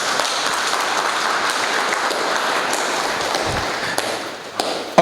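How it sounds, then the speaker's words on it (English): Sustained applause from an audience honoring a Ghana table tennis legend at a ping pong show, steady dense clapping throughout with a few sharper claps near the end. "we need to give him another hand of applause"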